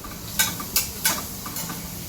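Spices being stirred into hot oil in a pan: four evenly spaced scraping strokes over a steady low sizzle, close and alone with no voices.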